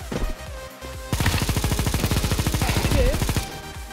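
Machine gun fire in the video game Counter-Strike 2: a few loud shots, then a long, rapid, evenly spaced burst lasting over two seconds before it cuts off.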